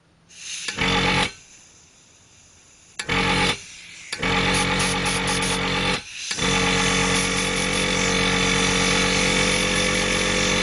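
A Sparmax Arism airbrush air compressor cycles on and off in short loud bursts, then settles into a continuous close, droning motor hum with no talk over it.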